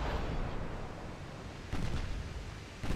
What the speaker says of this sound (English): Her 6-inchers are also flinging HE right back at the Italians